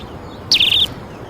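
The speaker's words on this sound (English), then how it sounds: "Like these little birds around me here at Cafe Anyway." A single bright, clear chirp from a small bird at an outdoor cafe, loud and close, rising then trailing off over a quiet background hum.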